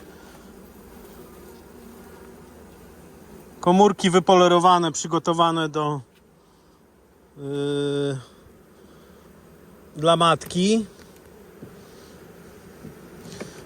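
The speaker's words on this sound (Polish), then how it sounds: "Bardzo spokojne pszczoły." Calm honeybees buzz at an open hive during a spring colony inspection, a steady low drone running under several bursts of nearby Polish speech.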